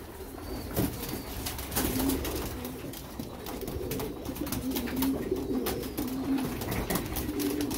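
Pigeons coo steadily while feeding on scattered grain, with repeated soft, low, rolling calls from several birds close by, over a constant outdoor background hum and occasional light rustling.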